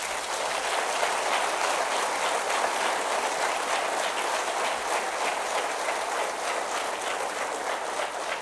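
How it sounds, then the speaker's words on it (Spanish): A church congregation claps together in sustained, dense applause, a steady wash of many hands filling the room without pause and without speech. "Dale un aplauso al Señor."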